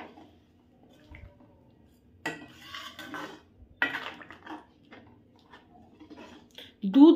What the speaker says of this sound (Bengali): আমি গুড়টিকে ভালো করে দুধের সাথে মিশিয়ে নেব।